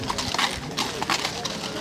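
Horses' hooves clip-clop at a horse presentation at a French market fair, steady and moderately close, under someone speaking French over a loudspeaker.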